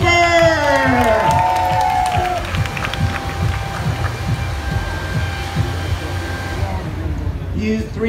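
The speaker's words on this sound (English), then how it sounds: "A big cheer for Cooper." An audience at a science show at an ostrich festival cheers and applauds loudly for a young volunteer, a dense roar of clapping and whoops that tails off gradually over several seconds, with a voice briefly audible at the start.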